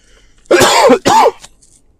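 Two harsh, voiced throat-clearing coughs from a man at the microphone of a basketball talk radio broadcast, close and loud, the second shorter than the first, in an otherwise quiet room.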